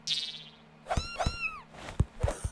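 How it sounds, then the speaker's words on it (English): A cartoon cat gives a couple of short, sliding meows, with soft thumps and other brief sound effects around them. "The cat."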